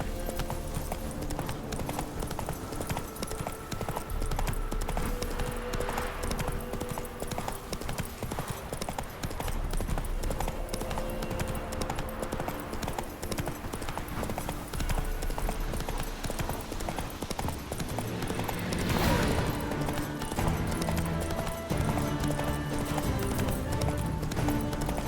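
Hooves of Roach the horse pound at a gallop in The Witcher 3, a dense, continuous drumming beneath loud game music and ambience that persist the whole way.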